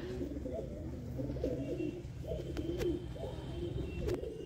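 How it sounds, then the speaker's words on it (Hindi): Several pigeons coo continuously outside their coop, low rolling calls overlapping at close range on a hot day, with a steady murmur and no talk. "कुछ ही कबूतर अपने नीचे खुले हैं बस यही, बाकी सब अंदर जा चुके हैं, ये मस्तियाँ कर रहे हैं कुछ बाहर"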